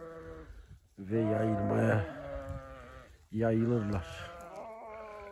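Sheep and lambs on a farm give two loud, drawn-out bleats close by, with someone speaking Turkish quietly underneath and between the calls.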